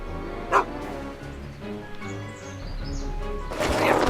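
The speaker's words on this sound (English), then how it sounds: "Get away from me, you crazy mutt! Go away, dog." A dog in the video game Back to the Future: The Game gives a sharp bark, then yips and whimpers over a droning game soundtrack, with a louder burst of noise near the end and no clear talk.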